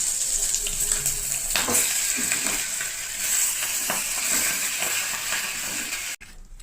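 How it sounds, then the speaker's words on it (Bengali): Fish heads sizzle in hot oil for a Bengali muri ghonto, a dense, close crackling fry with occasional stirring scrapes and pops, cutting off abruptly near the end. "এই যে মাছের মাথাগুলো ভাজা হয়ে গেছে, আমি ভালো করে লাল লাল করে ভেজে নিয়েছি।"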